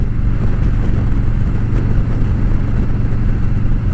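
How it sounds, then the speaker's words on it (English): A 2017 Harley-Davidson Road King's Milwaukee-Eight 107 engine idles steadily with a deep, rumbling low-end throb, loud and close, with no talk over it. "This is my 2017 Road King with a Milwaukee-Eight 107, affectionately known as Alice."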